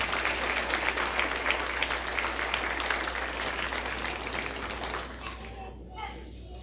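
Audience at a county stock show dairy event claps in sustained, dense applause that carries evenly for several seconds before tapering off near the end.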